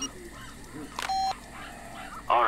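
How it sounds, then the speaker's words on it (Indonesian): A phone rings in the video game Far Cry 2, a short bright electronic tone standing out over game ambience, with some faint background noise around it. "ada telepon, angkat"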